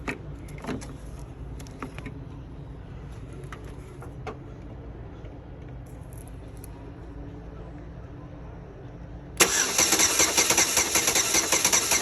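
A 2007 Chevy Impala 3.5L with a misfire cranks during a compression test on cylinder six. Quiet shop ambience gives way to a loud, rhythmic, pulsing starter churn that runs for the last couple of seconds.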